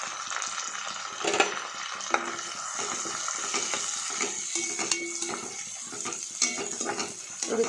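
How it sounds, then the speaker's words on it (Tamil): Sliced onions with fennel and curry leaves sauté in a pan, giving a steady close sizzle broken by repeated scrapes and knocks of a spoon stirring against the metal, with no talking. "இதை இப்போ நல்லா வதக்கி விட்டுருங்க."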